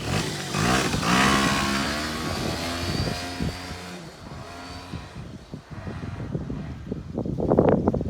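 A Honda Scoopy 75cc scooter rides past outdoors, its small engine rising from a distance, peaking close with a buzzing rev, then fading before revving up again nearby, with wind noise throughout.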